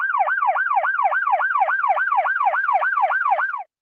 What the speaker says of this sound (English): There was sirens all over the place